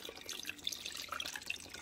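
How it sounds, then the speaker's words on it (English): About 4 cups of water pour into a pot on a stovetop for homemade pork belly chicharrones, a soft, close splashing trickle that stays fairly quiet and continuous, with no talk. "Now I am going to add water. It's about 4 cups to 1 liter of water."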